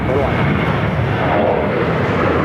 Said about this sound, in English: So we do have Delta Airlines Flight 348. It's an A350-900 coming in from Atlanta.